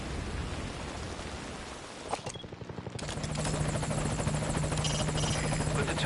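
A helicopter in Metal Gear Solid V: Ground Zeroes thumps with steady rotor beats, growing louder and nearer partway through, over a rainy, stormy backdrop.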